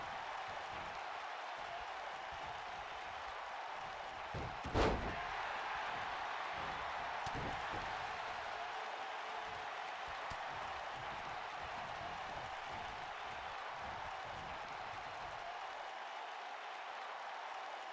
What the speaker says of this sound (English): And the crowd getting behind Darby Allen